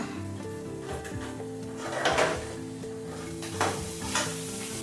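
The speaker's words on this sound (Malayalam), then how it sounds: "വറക്കാനുള്ളതും കൂടി വറുത്തെടുക്കുന്നുണ്ട് കേട്ടോ." Tempering spices fry in hot oil in a pan with a continuous sizzle, while a utensil stirs and scrapes against the metal in a few louder bursts. The sounds are close, with no voices.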